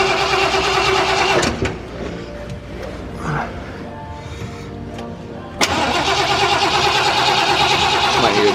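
A camper's engine cranks over with a loud whirring start at the outset, drops away into quieter fumbling sounds, then cranks again loudly near the end, running on to the finish.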